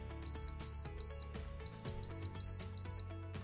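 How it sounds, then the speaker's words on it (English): A HornetPro remote control receiver gives four short, high electronic beeps while pairing with a transmitter, then four more in a steady rhythm, over quiet background hum. "When I hear 4 beeps, I know output 4 is ready to pair."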